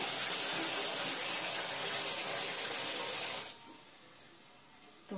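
Tap water pours steadily into a vessel in a home kitchen, a continuous hissing gush that stops abruptly partway through, leaving quiet room tone with a faint clink.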